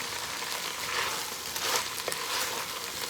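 Meat and its juices sizzling in a pot for Cajun pastalaya, a steady close hiss and crackle with a few stirring knocks and scrapes, no voices.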